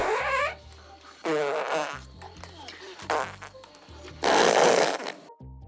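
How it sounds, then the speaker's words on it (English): Several loud, drawn-out fart sounds from the campfire scene in the 1974 comedy Blazing Saddles, coming in separate bursts with brief pauses and mixed with other film audio between them. "the now famous fart scene"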